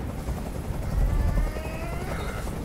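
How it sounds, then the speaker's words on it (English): Helicopter hovering overhead in the video game Detroit: Become Human, a loud, close, continuous rotor throb with low pulsing beats that swell briefly in the middle. "I can't stand that noise anymore. Tell that helicopter to get out of here."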